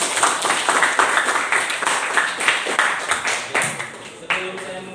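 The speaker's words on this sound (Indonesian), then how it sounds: "Tepuk tangan 12 kita." A group of students in a classroom claps hands in a rhythmic, patterned sequence of sharp repeated claps, fairly close, with some talking mixed in.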